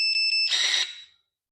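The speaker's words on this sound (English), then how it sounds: "you just hold this down for 3 or 4 seconds until you hear it beep, and then it's locked into place" Cordless pruning shears give three quick electronic beeps, followed by a short rustling clatter as the handle is handled and the blades lock shut, then silence.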